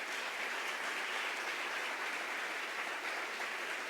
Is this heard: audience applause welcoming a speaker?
yes